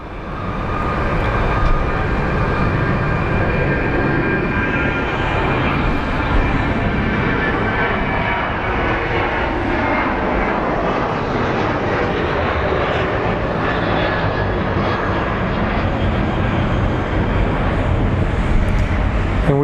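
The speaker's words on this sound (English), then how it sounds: "And over there we do have a Delta Airlines pushing back." A Delta Airlines airliner pushes back at Phoenix Sky Harbor airport, a loud, continuous jet engine roar with a steady whine that fills the whole stretch.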